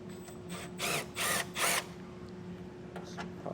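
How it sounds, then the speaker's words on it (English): A power driver spinning out T30 Torx bolts on a 2013 Fiat 500 during a base plate installation, three short whirring bursts in quick succession, fairly close, followed by quiet. "We have 4 T30 Torx bolts to remove."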